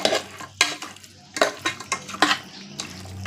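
Three-quarters of a kilo of mutton being mixed with marinade in a metal vessel, with close, wet squelching stirs and light clanks of a utensil in several quick strokes.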